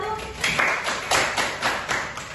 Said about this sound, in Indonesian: Kita berikan aplaus kepada kelompok 1